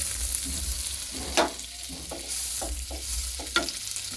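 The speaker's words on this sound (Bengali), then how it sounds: "বাটারটাকে কড়ার মধ্যে দিয়ে দেবো" Butter sizzles in a hot wok, a steady close frying hiss with a few sharp scraping stirs and clicks of a utensil against the metal.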